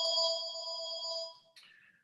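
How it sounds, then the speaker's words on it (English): An electronic phone ringtone trills loudly and steadily for over a second in an office during a call, then cuts off into a brief second chirp. "Excuse me while I turn this other phone off."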